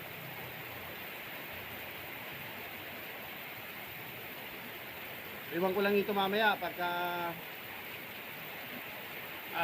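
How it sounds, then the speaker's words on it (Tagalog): Steady, dense rain hisses evenly throughout, a sudden heavy downpour with wind, with a person briefly speaking partway through over the downpour. "biglang bigla na bumuhos ang ulan. Malakas."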